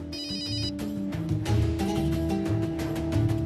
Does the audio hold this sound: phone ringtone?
yes